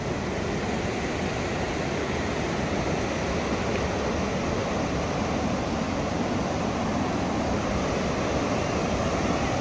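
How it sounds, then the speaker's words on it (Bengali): Ocean surf breaking on the shore at Cox's Bazar beach, a steady broadband roar of waves washing in with wind noise on the microphone, continuous and fairly loud with no talking. "এদের এক একটা করে ঢেউ আসতেছে।"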